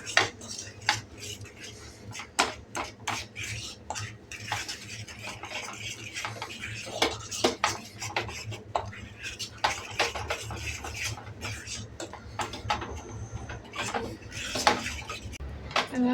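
A spoon stirs a thick mango candy mixture of raw mango and Kashmiri red chilli in a metal pot, giving steady close scraping and clinking against the pot throughout.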